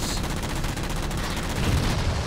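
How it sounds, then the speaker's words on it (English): A barrel blows up after a missile strike in Halo 4, a dense, roaring blast with crackling, gunfire-like bursts that stay loud and steady for the whole stretch. "Oh, that was in a, like, exploding barrel or something"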